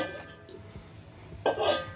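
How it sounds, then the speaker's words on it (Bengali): A metal cooking pot of rice clanks and scrapes briefly, followed by a louder clatter of cookware being moved near the end. "দিয়ে হাঁড়িটা বের করে দিতে পারবো"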